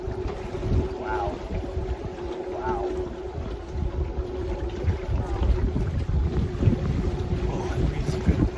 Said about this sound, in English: Oh, that breeze is good. North wind.